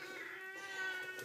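A pet cat gives one drawn-out meow close by indoors, quiet and alone, with no one talking over it.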